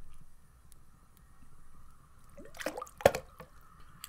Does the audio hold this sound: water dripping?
yes